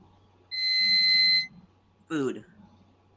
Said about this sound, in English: Timer is done.